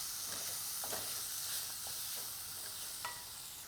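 Chopped tomatoes hit hot oil and masala in a pan for matar paneer, giving a steady close sizzle and hiss with faint stirring clicks and no voices.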